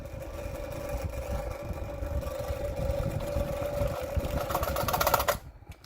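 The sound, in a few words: 1960s Superior Electric Model 808 desk fan running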